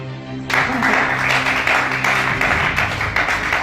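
A church congregation at a weekday service in Libreville bursts into loud, sustained applause that goes on steadily after a brief quieter moment, with voices mixed in beneath the clapping.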